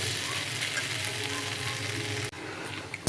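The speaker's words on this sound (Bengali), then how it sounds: "গ্যাসটা লো টু মিডিয়াম করেই ভাজতে হবে ভাজা ভাজা হয়ে যাচ্ছে" Sliced ladyfingers (okra) fry in a pan over low to medium gas, giving a dense, steady sizzle with no talk over it. The sizzle cuts off abruptly near the end, followed by a few faint knocks.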